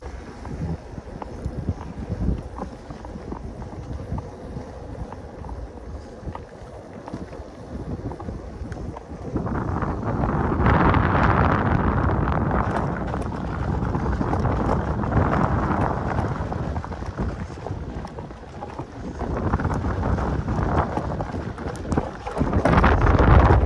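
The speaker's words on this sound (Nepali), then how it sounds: "मिठो हावा चलेको" Strong wind rushes and buffets loudly outdoors, swelling in gusts with heavy low rumbling noise on the microphone.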